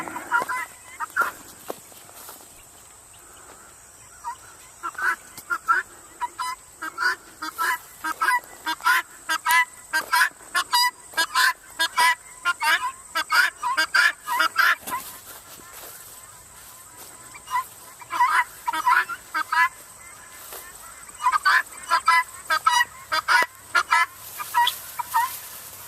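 Repeated harsh, rhythmic bird calls in bursts from a flock close by, with pauses between runs of calling.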